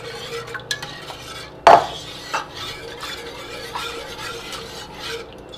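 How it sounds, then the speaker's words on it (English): Milk being whisked into cheddar cheese soup in a pot, with a steady rhythmic swishing of the whisk, a loud metallic clank early on and lighter taps against the pot's sides. "Putting this in, I'm going to whisk it in, and then we're going to let this simmer for a little bit."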